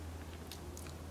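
A bite into a crunchy Cadbury honeycomb chocolate bar gives a few faint, crisp crackles close to the microphone over a low background hum.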